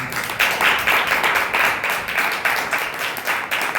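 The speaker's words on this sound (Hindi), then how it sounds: "ताली बजा के हम प्रभु के नाम" A congregation claps steadily in a church service, the sustained, dense applause-like patter of many hands holding an even rhythm throughout with no pause.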